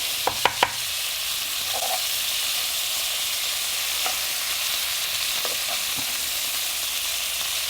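Scallops fry in butter in a pan, a soft steady sizzle with a few sharp clicks near the start as they are turned over, then quieter stirring touches.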